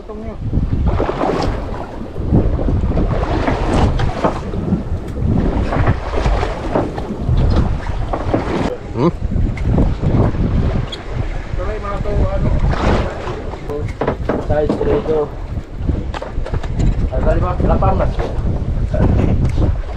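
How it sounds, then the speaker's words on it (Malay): Strong morning wind buffets the microphone on a fishing boat at sea off Semporna, loud gusty roar with waves and engine rumble beneath, and people talking throughout. "Ya, angin begitu kuat pagi ni"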